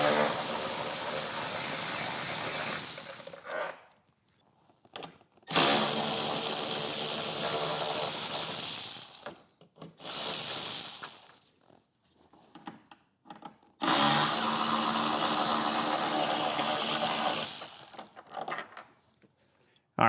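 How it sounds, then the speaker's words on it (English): A Milwaukee 12-volt right angle ratchet backs out the handlebar bolts on a 2024 Harley-Davidson Street Glide, heard as four close, loud whirring bursts of a few seconds each with short quiet gaps between them. "we like to use these Milwaukee 12-volt right angle ratchets"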